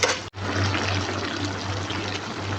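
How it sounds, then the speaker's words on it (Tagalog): A cup of water poured into a pot of cooking chicken tomato stew, a loud, steady close-up rush of liquid after a brief cut at the start, continuing without talk. "mag-add tayo ng tubig na isang cup"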